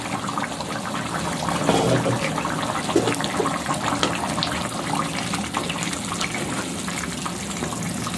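Fish head curry boils in a covered pot, giving off a steady, loud, close bubbling hiss with no break.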